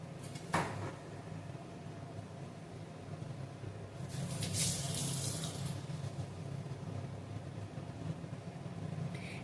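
Water runs steadily from a kitchen tap while hands are washed clean of grated coconut, with a louder splashing burst midway and a faint knock near the start.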